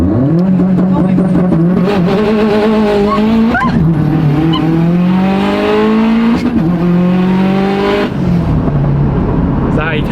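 A Subaru STI launches hard and drifts, its engine roaring at high revs while the tires squeal loudly and continuously, the pitch rising and falling over about ten seconds, close and dominant.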